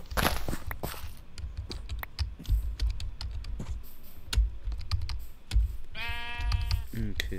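Minecraft sheep bleating near 6–7 seconds in the video game, a short wavering bleat that rises out of steady clicking keyboard typing and soft game ambience.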